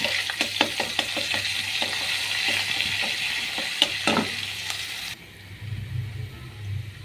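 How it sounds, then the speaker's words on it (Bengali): Dried chillies, garlic and cumin paste go into hot oil for a mixed vegetable dish, giving a loud, continuous sizzle broken by sharp clicks and scrapes of stirring. The frying softens and turns rougher near the end. "তেল গরম হয়ে গেছে এবার আমি শুকনো মরিচ দিব এবার রসুন এবং কাঁচা জিরা বাটা দিব"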